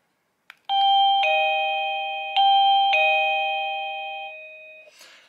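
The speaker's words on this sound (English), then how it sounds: "they have some creative sounds for doorbells" A wireless doorbell plays one of its chime melodies, a few clear electronic ding-dong tones that ring out and decay in sequence, loud and close, ending with a short burst of noise.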